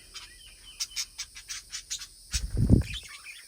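Small parrots at an animal park chirp in a quick, close series of bright tweets, ending in a louder rustling flutter.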